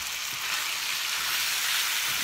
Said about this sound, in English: I'm going to saute this until the meat is brown